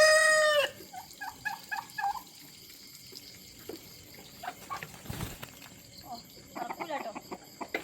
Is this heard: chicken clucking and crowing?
yes